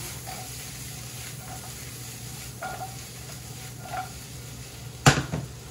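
Mushrooms with garlic and a splash of heavy cream cook down in a pan with a steady close sizzle, faint stirring and a sharp utensil clink near the end.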